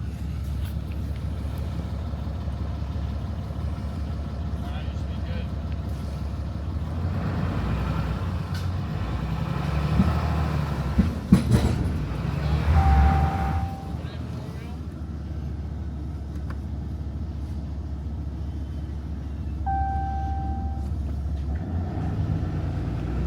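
A pickup towing a trailer that carries a non-running mud truck creeps forward to tip it off, a steady low engine drone with a cluster of clunks and knocks partway through and faint tonal squeals later.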